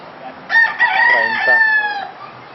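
A rooster crows loudly in one long, drawn-out call, with other chickens clucking softly in the background.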